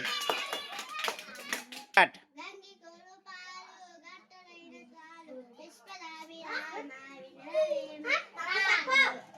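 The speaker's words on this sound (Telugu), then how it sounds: "Very good. క్లాప్స్ కొట్టండి." Children in a classroom clap together in a loud burst of quick hand claps at the start, followed by someone speaking alone at length.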